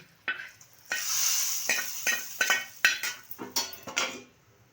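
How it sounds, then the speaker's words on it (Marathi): Hot oil sizzles sharply as a garlic and chili tempering hits the pan of chicken dalcha, followed by bursts of crackling and a few stirring clinks, close and fairly quiet. "चिकन दालच्याला फोडणी देऊया वरून आता ही लसूण आणि मिरचीची फोडणी केलेली"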